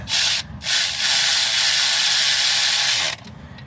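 A ratchet bolts up a CV axle in a shop, giving a loud, steady rasping whir that runs for about three seconds after a couple of short bursts, then cuts off.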